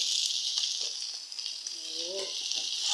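Steady oil sizzle from food frying in a pan, a bright continuous hiss with faint clinks now and then, close and fairly loud.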